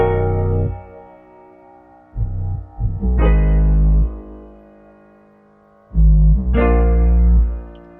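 Distorted 808 bass hits and sustained chords in a melodic drill beat, with loud, thick low-end bursts over a softer chord bed that continues between them.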